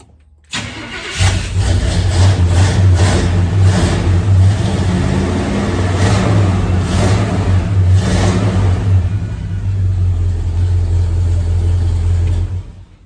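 A 1972 Chevrolet C20 Longhorn truck engine cranks and catches after about a second, then runs loud and steady with a rough, lumpy idle and a few revs, close by, with no talk.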